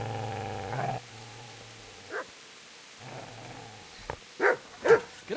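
Dog barking and growling in the medieval video game Kingdom Come: Deliverance, with a low growl in the first second, then a quiet stretch and several sharp, loud barks near the end.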